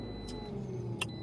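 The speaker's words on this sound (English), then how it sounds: "Heat up my car one last time and then I'm gonna leave." A car engine idles steadily as it warms up one last time in the evening, a low continuous rumble close by with no talking.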